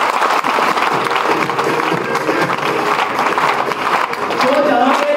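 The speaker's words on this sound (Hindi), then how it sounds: "इन सभी लोगों के लिए जबरदस्त ताली बजाना चाहिए।" An audience at a Hindi motivational speech event on stage breaks into loud, sustained applause, dense continuous clapping from a large crowd with voices mixed in.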